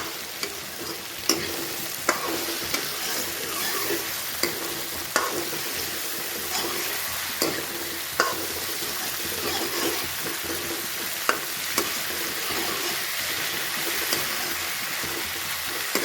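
Okra and onion sabzi stirred in a hot pan, with a steady sizzle and repeated sharp scrapes and taps of the spoon against the pan, close and continuous with no talking.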